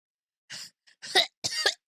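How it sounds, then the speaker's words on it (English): Three short, sharp coughs in quick succession, close by, with brief silences between them. "I'm gonna start coughing"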